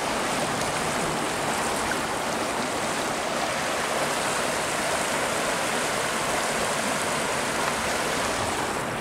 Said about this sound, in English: Look at that beautiful river.